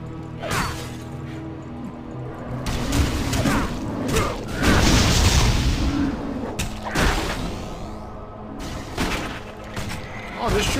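A cannon fires repeatedly in the action RPG Torchlight 2, with loud booming blasts and crashing impacts in irregular bursts amid clattering combat effects.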